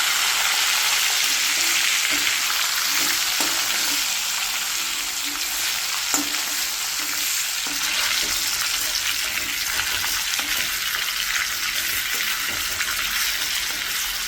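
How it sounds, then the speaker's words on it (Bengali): A fish fries in hot oil with a loud, steady hiss that carries on unbroken, dotted with small spits and crackles. The sound is close up and has no talk over it. "এবার এখান থেকে একটা মাছ আমি তেলে দিলাম।"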